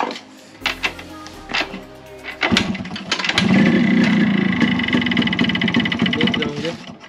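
A Yamaha RX 100 motorcycle with an engine noise problem is heard close up as a few mechanical clatters, then the engine catches and settles into a loud, steady running rattle.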